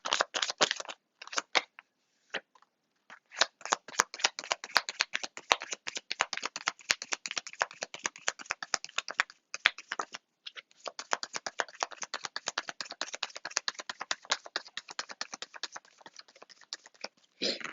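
Tarot cards being shuffled by hand in a quiet room, a long run of quick crisp riffling flicks and taps with short pauses between bursts, close and soft.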